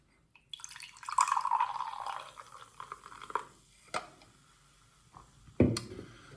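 Taiwanese root beer poured from a freshly opened bottle into a glass, with a liquid gurgle and splash followed by a few scattered drips and clinks, close up.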